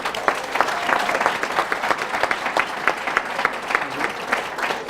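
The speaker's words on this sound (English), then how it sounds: "Can we give them another round of applause?" An audience at an academic lecture and awards event applauds the award recipients, with sustained, even clapping from many hands in a hall, loud and continuous throughout.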